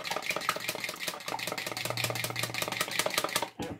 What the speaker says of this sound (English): we use a fork to beat the egg and the butter together